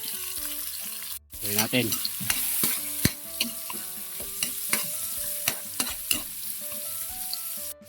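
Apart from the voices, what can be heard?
garlic sautéing in oil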